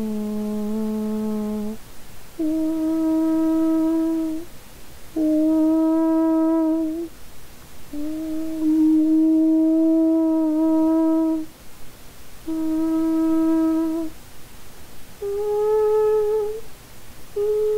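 Whistling layered over a hummed voice imitates a trumpet, in about seven sustained, buzzy brass-like notes of shifting pitch separated by short gaps, performed alone and fairly loud.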